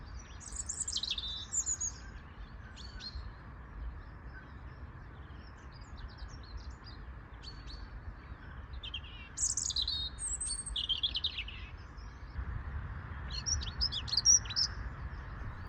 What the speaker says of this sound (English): The hedgerows along this area are covered in birds. These are house sparrows.